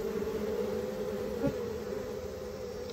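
A swarm of honey bees hums in a steady, continuous drone, with one bee passing closer briefly midway, heard at moderate loudness with no voices.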